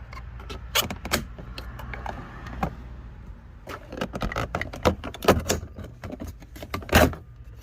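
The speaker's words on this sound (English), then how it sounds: "this is where you use your plastic pry tool to just kind of get underneath this right here and just kind of pry up on it" Plastic pry tool levering up the door trim panel of a 2005-2009 Ford Mustang, giving a series of close, sharp plastic snaps and clicks with faint rattling between, busiest toward the end.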